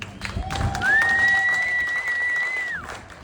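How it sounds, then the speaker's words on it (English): An outdoor amphitheater audience at the grand opening of Adventist Health Amphitheater in Tulare's Zumwalt Park applauds two bands, with sustained crowd clapping, some cheering and a whistle over the steady applause. "And a round of applause for those two bands"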